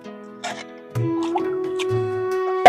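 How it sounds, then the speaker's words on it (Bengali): A gajal fish is rinsed by hand in water, with scattered drips, small splashes and soft squishy handling sounds, close by, broken by brief pauses. "বন্ধুরা, দেখো আমরা মাছটা এখন ধুয়ে নিচ্ছি।"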